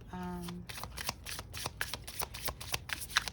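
A deck of cards being riffled and shuffled repeatedly, a quick run of crisp flutters and snaps close to the listener, with no talking.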